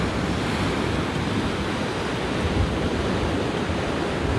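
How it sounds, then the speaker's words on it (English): Ocean surf at La Jolla Beach rolls in as a steady, loud broadband wash of breaking waves with some wind rumble, continuous and close with no voices. "here we are at the beautiful La Jolla Beach"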